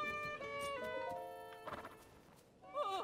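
A horse whinnies in Legend of Zelda: Tears of the Kingdom, a clear harmonic neigh near the start and a second rising, wavering call at the end, with light hoof clatter between.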